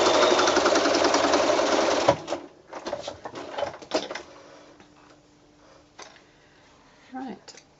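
A sewing machine runs in a fast, loud burst of stitching on a small quilted mini snap bag for about two seconds, then stops; scattered handling clicks and faint rustling follow.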